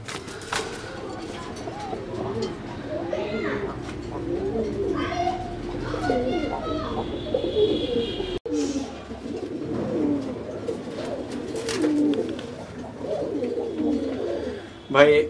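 Fancy homa and giribaz pigeons coo in repeated soft, throaty phrases close by, several birds overlapping, with a few brief chirps and background noise around them.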